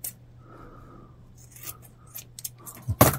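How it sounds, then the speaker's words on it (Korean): Scissors snip through soft modeling clay for a handmade doll, with a few quiet cuts and then sharper, louder snips near the end against a faint background hum. "가위로 잘라내고 위에 붙이고 옆에 이렇게 붙여요."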